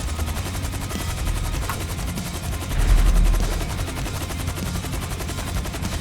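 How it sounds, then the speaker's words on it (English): Automatic gunfire in GTA 5, near a military helicopter at a prison: a loud, unbroken stream of rapid shots, with a deep engine rumble swelling underneath. "Oh, why are they shooting at us?"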